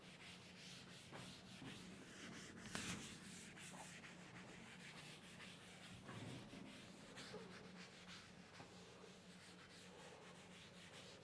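Chalk or marker writing being rubbed off a classroom board during an English grammar lecture, a steady scratchy sanding-like rubbing that runs continuously at moderate loudness with no talk.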